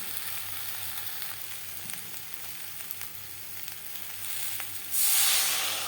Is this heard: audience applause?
no